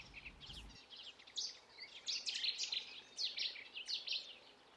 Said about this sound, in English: High above the canal, on the telephone wires, sand martins gather in neat rows.